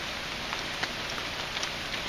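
Steady rain falls outdoors with a dense, even hiss and scattered louder drops pattering on surfaces, continuous and close with no voices.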